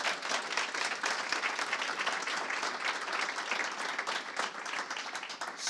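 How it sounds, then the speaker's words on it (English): Sustained applause from an audience at an evening event honoring MLK fills the room evenly, a soft, dense patter of many hands heard a little distant and without talk. "Give everybody another round of applause,"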